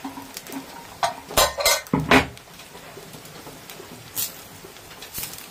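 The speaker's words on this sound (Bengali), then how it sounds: "আমি কিন্তু ঢাকাটা এবার তুলে দেবো" A metal lid is lifted off a pot of soybean pulao, a quick cluster of clanks and rattles near the middle, then scattered lighter clinks against a quiet kitchen background, no talking.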